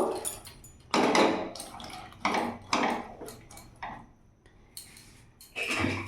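A spoon stirring salt and turmeric into banana stem and chana dal in a pot, heard as bursts of wet scraping and clinking separated by short pauses, close and moderately loud with no talk.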